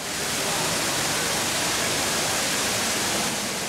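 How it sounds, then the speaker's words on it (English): A dense, steady roar of falling water from the Rain Vortex, an indoor waterfall at Singapore's Changi Airport, pouring into an acrylic funnel, loud and unbroken throughout. "An acrylic funnel at the bottom prevents splashing and insulates the sound of the cascade."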